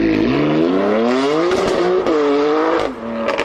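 A BMW M4 fitted with an M Performance exhaust bounces off the rev limiter, its loud, close engine note climbing and stuttering in rapid cuts, then dropping away at the end.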